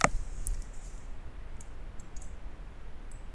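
A single sharp computer mouse click right at the start while confirming OK in Autodesk Inventor 2016 sheet metal design software, followed by quiet room hiss and a few faint high ticks.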